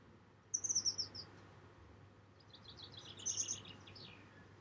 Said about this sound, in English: I wonder if you can hear the lovely birds